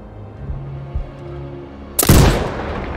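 A sniper rifle in the video game Sniper Ghost Warrior Contracts 2 fires one loud, sharp shot that booms and rolls away after a couple of seconds of low ambient hum.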